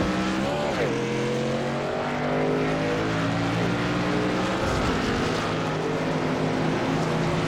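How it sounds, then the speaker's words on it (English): Race cars accelerate off pit road in a CFR championship event, engines roaring loud and continuous. Overlapping engine notes climb and shift as the cars pull away, with no talk over them. "As we race off pit road, as Tyler Cox leaving first."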